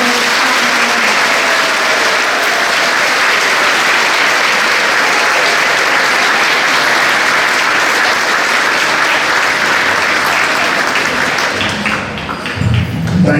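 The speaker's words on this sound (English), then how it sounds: "let's give him a big round of applause" A school awards ceremony audience gives a speaker a big round of applause, loud, dense, sustained clapping throughout, thinning near the end as a voice comes in.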